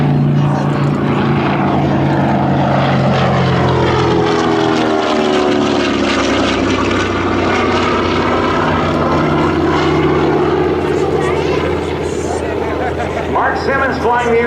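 A TBM Avenger, a single-engine propeller torpedo bomber, performs at an air national guard open house airshow. Its loud, continuous propeller drone swells and shifts in pitch as it passes, with announcer talk faint beneath.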